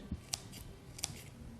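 Scissors snip through small flower stems, such as hydrangea, for a mesclun salad: two crisp, close cuts about three-quarters of a second apart over a quiet background.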